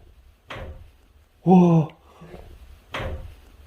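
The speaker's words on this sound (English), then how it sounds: "That door just moved again, and he did not touch that." A door inside an old farmhouse is pushed and shifts, giving two dull knocks a few seconds apart, with a short startled voice exclaiming between them in an otherwise quiet room.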